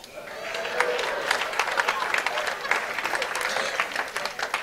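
A large audience at a business and wealth lecture breaks into applause, a dense, steady wash of many hands clapping with some crowd murmur, moderately loud and continuous for several seconds.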